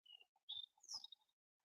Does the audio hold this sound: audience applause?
no